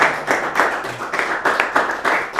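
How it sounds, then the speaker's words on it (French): Audience at an artificial intelligence conference clapping in a short, even round of applause, close and moderately loud, with no talk over it. "On applaudit Anaël."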